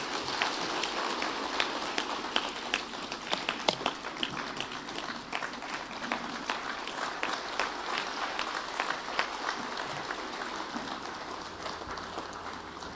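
A large audience claps at the opening of an inaugural annual competitiveness summit in Zimbabwe, dense sustained applause with sharp individual claps standing out, steady and fairly loud throughout.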